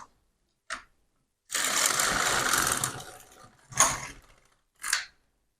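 A carriage on an LK150 knitting machine is run across the bed to release the finished knitting, making a loud mechanical whirring sweep lasting about two seconds, followed by a couple of short clicks and clacks in an otherwise quiet room.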